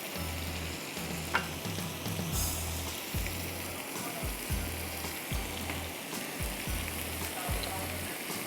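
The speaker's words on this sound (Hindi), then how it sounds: "इसको ज़रा सा 1 या 2 मिनट भूनेंगे और इसमें मैं शामिल कर दूंगी" Fish frying in a pan of green masala made with coconut, cumin, fresh coriander, green chilies, ginger and garlic: a steady close sizzle with soft, regular low thumps of stirring underneath.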